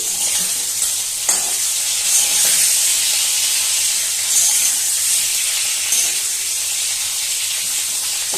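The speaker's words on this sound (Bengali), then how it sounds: "এভাবে করে আমি মাছটা ভেজে নিচ্ছি" Magur catfish frying in oil in a covered pan makes a loud, steady, hissing sizzle that runs throughout, with a few sharper pops and spits.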